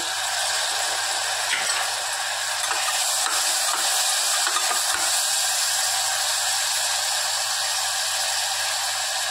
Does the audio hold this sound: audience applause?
no